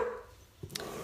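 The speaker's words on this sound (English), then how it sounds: "Oh good, my doggy is barking." A pet dog gives a couple of short barks nearby, one quick yip then a brighter bark, over a quiet indoor background.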